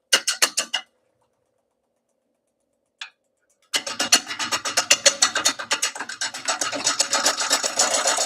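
A foot-powered tool cuts wood with rhythmic rasping strokes: a quick burst, a long pause, one brief stroke, then a steady run of close, loud scraping passes.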